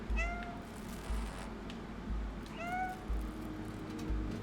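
A cat in the Stray video game meows twice, each call short and distinct, over low ambient background noise.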